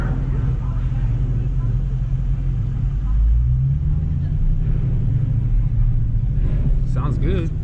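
Ford Mustang exhaust rumbles deep and loud nearby, swelling briefly midway as it accelerates, with voices chatting over it toward the end.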